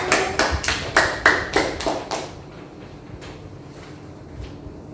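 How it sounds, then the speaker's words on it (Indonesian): A classroom of students claps hands in a quick, rhythmic burst of about a dozen close claps that fades out after two seconds, followed by scattered faint taps. "Tepuk tangan untuk kita semua dulu."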